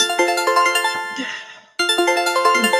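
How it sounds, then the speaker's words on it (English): A mobile phone ringtone chimes in a theater: a bright, repeating electronic melody plays in a quick rhythmic pattern, pauses briefly, then starts again, loud and close. "No phones in the theater."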